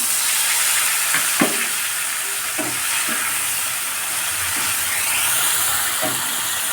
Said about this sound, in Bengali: এখন গুলে রাখা মশলাটা দিয়ে দিচ্ছি